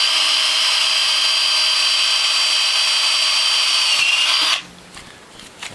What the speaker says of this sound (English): you center punch first, so that you can drill a nice clean hole